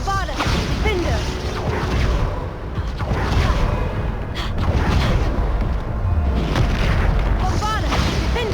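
Repeated Bombarda spell blasts in the game Hogwarts Legacy, dense booming impacts and whooshes stacked over continuous battle noise, with shouted voices woven through the din.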